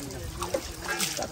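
Fresh water pours from a pipe with a steady close trickle and splash while someone talks over it.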